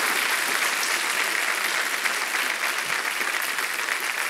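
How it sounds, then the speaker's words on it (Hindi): On the KBC India quiz show set, the studio audience keeps up a steady, dense round of clapping from many hands that holds at an even level throughout, with no voices on top. "तालियां बजती रहें इनके लिए।"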